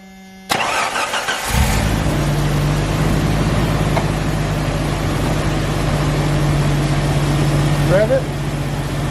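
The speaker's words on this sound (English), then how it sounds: "So we're going to go ahead and crank it and let's see what this thing's doing" A Jeep-based off-road race truck engine cranks over and catches, then settles into a steady, loud idle close by, with brief voices over the running engine.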